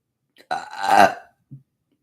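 A single loud, throaty burp sounds close up, followed by a short soft vocal sound.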